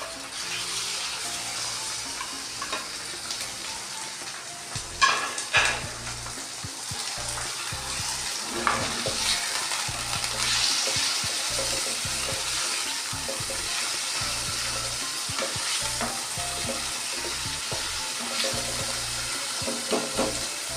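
Half a kilo of minced meat sizzling and crackling in a hot pan, a steady frying hiss with occasional stirring scrapes and clicks.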